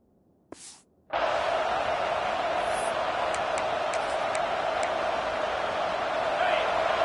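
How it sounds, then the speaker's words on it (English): After a brief quiet moment, a loud, dense roar of a large college football stadium crowd at Clemson swells in and holds steady, with scattered distant shouts. "Listen to the crowd energy here in the early going."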